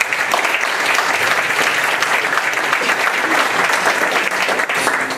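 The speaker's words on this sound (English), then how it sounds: "Please give them a round of applause." A Black History Month audience at Yuba College gives a round of applause for musical presenters: dense, loud, even clapping that runs without a break.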